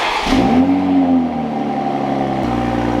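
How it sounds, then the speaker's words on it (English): A Toyota Supra engine cold-starts with a sharp crank and catch. The revs rise to a high, steady idle, then drop to a lower, even drone, loud and close, with no talk. "cold start"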